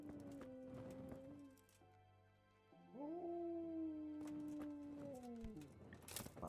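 In Kingdom Come: Deliverance, a dog gives long, wavering howls in two drawn-out sweeping phrases, loud and fairly close, with a soft background of ambient game sound and a few faint clops.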